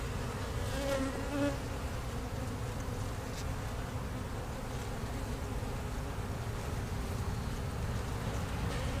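A neighbouring honeybee colony hums loudly and continuously near a neglected swarm trap, a dense, steady drone with individual bees buzzing past close by.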